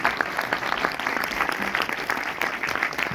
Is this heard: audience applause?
yes